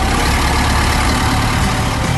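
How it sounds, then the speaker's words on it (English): A Kubota M-Series diesel tractor with diesel particulate filter technology runs steadily nearby, giving a loud, continuous engine drone that holds even throughout without revving or pauses. "That's the sound of a Kubota M-Series tractor with emission-friendly Kubota diesel particulate filter technology"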